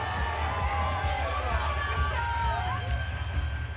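A football crowd roars and cheers at the Wrexham racecourse stadium, a dense, sustained swell of many voices with whoops and shouts rising out of the steady hubbub.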